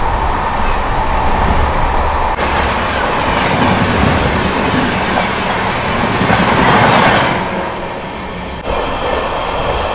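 An Amrit Bharat Express train rushes along at about 130 km/h with a loud, steady roar of wheels and rails, a faint rhythmic clatter running underneath throughout.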